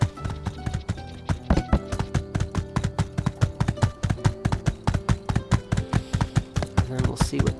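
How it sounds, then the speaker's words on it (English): Horse hooves in the video game My Time at Sandrock, a brisk regular clip-clop of sharp knocks at close range, steady for several seconds with a faint background hum and music-like tones. "We can nab Horsey and get around a little bit faster"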